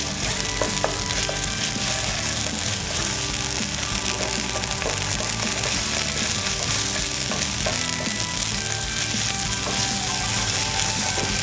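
Ginger garlic paste frying with onions in a pan, a loud, dense sizzle with constant stirring and scraping clicks throughout, close up and uninterrupted by speech.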